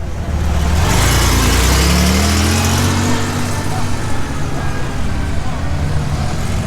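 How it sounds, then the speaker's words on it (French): A big American V8 car engine rumbles loudly and deeply nearby, its pitch rising as it revs up, steady throughout with voices faintly underneath. "cette sonorité si caractéristique du gros V8 américain"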